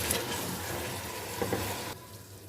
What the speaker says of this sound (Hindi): इसमें कीमे को थोड़ा सा भून लूँगी